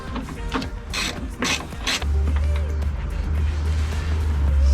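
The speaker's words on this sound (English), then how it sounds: "We'll take those 3 bolts off." A ratchet on an extension removes 10 mm headlight bolts from a 1997-2004 Dodge Dakota, giving quick rhythmic clicking bursts close by, then steady ratcheting as a bolt is backed out over a low hum.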